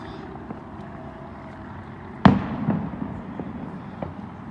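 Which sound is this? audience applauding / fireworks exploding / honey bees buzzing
fireworks exploding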